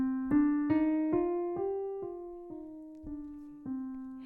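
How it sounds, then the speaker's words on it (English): A piano plays a slow minor scale, nine single notes climbing step by step, each struck clearly and left to ring, with a darker, somber color. "in a minor scale, it feels maybe darker and richer and mysterious."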